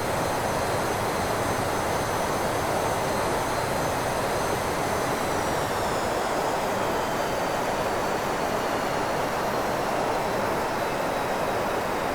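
Douglas DC-8 jet engines drone steadily in a flight simulator on approach to San Diego, a dense continuous roar with a faint high whine that glides slightly downward as the throttles are idled.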